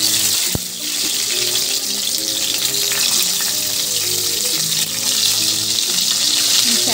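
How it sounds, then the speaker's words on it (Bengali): Eggplant slices fry in hot oil in a pan with a steady, close, bright sizzle throughout, a sharp click near the start, and faint clinks in the background. "এবার আমি বেগুনগুলোকে ভেজে নেব।"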